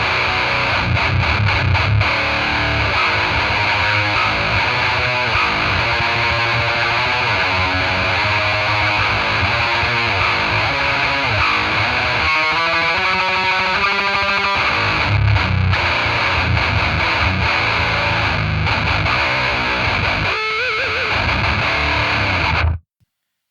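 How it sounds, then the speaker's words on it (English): Electric guitar through a Boss HM2 pedal gives a heavily distorted, buzzing Swedish death metal chainsaw tone, loud and alone, playing a continuous riff with chugging palm-muted passages and brief stops before ending abruptly. "you get that classic Swedish death metal tone with a chainsaw sound to it"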